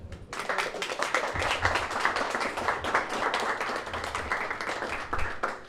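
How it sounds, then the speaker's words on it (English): Audience applause closing a panel discussion at a creative-business networking event, a steady dense patter of many hands clapping that swells and sustains throughout, with no talking over it. "Can we give another round of applause for our wonderful moderator and panelists?"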